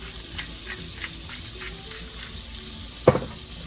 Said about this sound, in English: Now that I got a good simmer going here